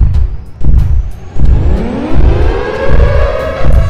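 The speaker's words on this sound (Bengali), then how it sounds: "সাইরেন তার অদ্ভুত আওয়াজের শক্তি দিয়ে কাল্লুকে ঠিকই ধরে ফেলে।" A cartoon Siren Head monster blares its eerie siren in rising and falling wails, each swell sweeping upward, loud and alone, with repeated blasts over about four seconds.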